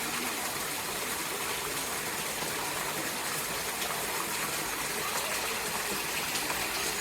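Steady flowing water rushes and gushes continuously at close range at Chester Zoo, a constant broadband wash with no pauses.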